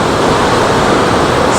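Ocean waves at the Legoland water park give a steady, loud wash of surf, close and unbroken, with no voices over it.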